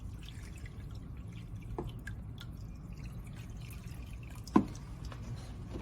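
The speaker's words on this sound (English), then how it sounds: "We're going to take it and we are going to pan it out and see what is in there." Sluice box material is panned in water for gold, giving faint, close drips and gentle sloshing under a low steady background, with one sharper splash near the end.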